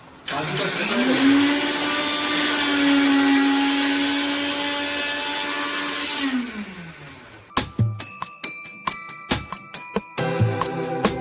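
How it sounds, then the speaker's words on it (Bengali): An electric blender grinds dried chillies and cumin in one long, loud whirring run of about six seconds that winds down, followed by a string of sharp knocks and clatters, with no talk. "শুকনো লঙ্কা আর জিরেটা বেটে দিচ্ছি"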